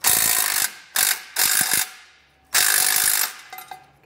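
Ratchet socket wrench on a 16-millimeter bolt, removing frame stiffener bolts on a 2023 Jeep Wrangler: several loud, close bursts of rapid clicking separated by short pauses, with no talk.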